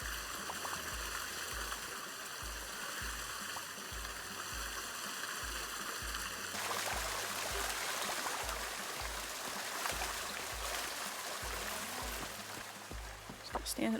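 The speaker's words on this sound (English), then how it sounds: "the water on these just sounds so insane sometimes." In the video game Waterpark Simulator, flowing water rushes and gurgles continuously, steady and full throughout, with a rhythmic low thump and a high tonal layer in the first half.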